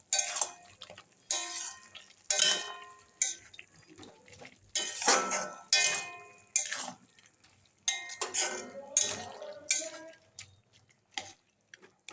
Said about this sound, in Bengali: আমরা ঢাকাটা খুলে এটাকে আমি একটু নাড়াচাড়া করে দেবো।